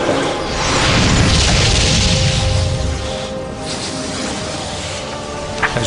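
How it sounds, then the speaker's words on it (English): A loud, sustained explosion from the intro of the Icewind Dale video game, a broad roaring blast that swells early and rumbles on for several seconds with no speech. "an explosion of white light engulfed the battlefield"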